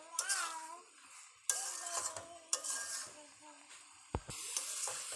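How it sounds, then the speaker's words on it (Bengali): Grated coconut fries gently over low heat in a pan for a coconut sweet, giving a soft sizzle with a few sharp scrapes and clanks of a spatula against the metal, while a voice murmurs intermittently in the background. "এইভাবে সুন্দর করে অল্প তাপে একটু নারিকেলগুলো ভেজে নিতে হবে"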